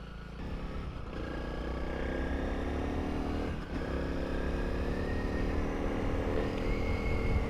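A Honda CRF300L motorcycle rides along a tarmac road with a steady, droning engine note that stays fairly even with slight rises in pitch, mixed with wind rush heard from on board.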